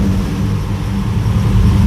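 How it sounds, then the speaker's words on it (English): An LS-swapped 1981 Pontiac Trans Am with a Pypes Violator exhaust runs at a steady high rev, giving a loud, continuous low engine drone that holds without letup. "Rev it up and it gets to where it's supposed to be."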